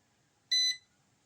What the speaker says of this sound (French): Voilà, le bip est là.